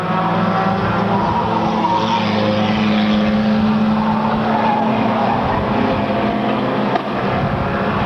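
Race cars roaring around a track on the final lap of a 1998 race: a loud, sustained blend of engine drone and tire noise that stays steady throughout, close and dense with no gaps.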